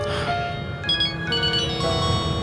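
A telephone ringtone plays in a dramatic scene, a repeating electronic melody with bright tonal notes over a low background hum, loud and close with no talking.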